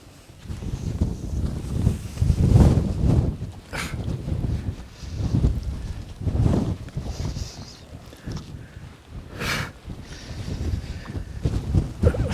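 Strong wind gusts across the Pinnacles desert in Nambung National Park, Western Australia, blowing sand, buffeting the microphone in loud, rolling surges with brief sharper hissing bursts and no talking.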